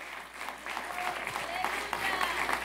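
A church congregation applauds during worship, a steady mid-distance clatter of hands with some voices mixed in and a low hum underneath.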